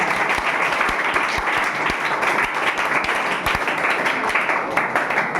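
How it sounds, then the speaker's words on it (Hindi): An audience of students at a Class 10 school quiz competition claps loudly and continuously, a dense, lively round of applause filling the room. "आप लोग ताली मार, ताली मार, ताली मार।"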